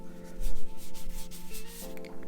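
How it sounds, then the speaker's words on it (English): A thumb rubbing across the plastic back of a Samsung Galaxy S21 phone makes a close, scratchy squeaking friction sound in short strokes, with a faint steady hum underneath. "that sound is just me rubbing my thumb against it"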